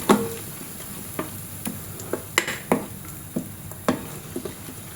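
Ingredients for a Konkani raw mango kadhi are stirred in a pan: a soft, steady sizzle broken by a dozen or so sharp ticks and clicks of the spoon scraping the pan, fairly close and unhurried.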